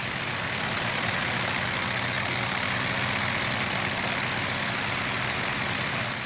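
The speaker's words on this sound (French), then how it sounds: "Ok, donc le moteur droit a démarré." The right engine of a Piper PA30 twin in a flight simulator game runs steadily, a dense, loud, unbroken drone and rumble with no voices over it.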